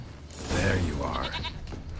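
A goat in the game Witcher 3 gives one wavering, drawn-out bleat, near and fairly loud, mixed with a brief voice.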